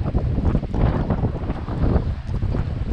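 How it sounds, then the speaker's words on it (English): Strong wind buffets an outdoor microphone beside a Tahoe, a loud, gusting low rumble that swells and eases without any break. "I know it's windy right now"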